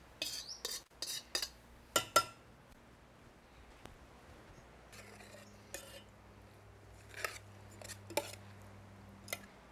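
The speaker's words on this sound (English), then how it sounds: "Now my meat is been cooked, so I'm gonna put them in my pot that I have sauce" Cooked meat going into a pot of sauce for Thai laab: scattered clinks of a utensil against the pot, then quieter scraping and stirring, close and fairly faint, with no talk.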